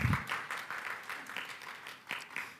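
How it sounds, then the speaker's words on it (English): A conference audience applauds at an Indonesian startup pitching event, a faint, scattered patter of hands clapping at moderate distance for a few seconds. "Let's give a round of applause for Mrs. Lydia Ruddy."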